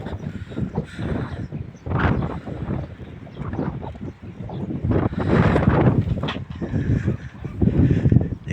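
Strong gusts buffet the microphone in heavy, uneven bursts, rumbling and roaring as the wind rises and falls.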